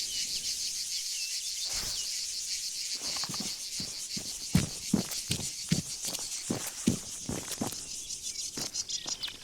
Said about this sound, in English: Bugs are loud.